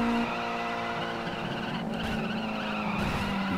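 A car drifts through a turn in the racing game Asphalt 8, probably an Alfa Romeo 4C, its tires squealing in a long continuous skid over the steady engine roar.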